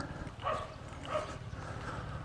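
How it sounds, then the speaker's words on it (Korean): A dog gives a few soft, fairly distant barks or yips early in the morning on rural land beside a clear stream, short calls spaced about a second apart over a quiet outdoor background. "아침 일찍 왔더니 강아지가 멍멍합니다"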